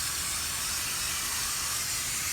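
A spray of water hisses steadily against an air conditioner coil during outdoor cleaning, a constant broadband rush with no breaks and no talk.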